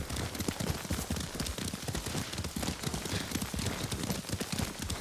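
Horse hooves clip-clop steadily during a ride in the Ghost of Tsushima video game, a dense rhythmic patter of steps running throughout under a busy game soundscape.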